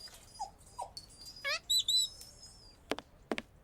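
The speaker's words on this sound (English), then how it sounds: "There's another bird." Birds chirp in a Sherlock Holmes video game shop scene: short rising tweets and a burst of bright warbling notes, followed by a few sharp percussive knocks, all fairly close with no speech.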